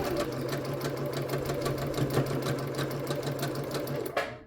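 A sewing machine runs steadily, stitching a seam across a flying geese quilt block, with a fast even mechanical ticking throughout, close and continuous, before stopping abruptly near the end.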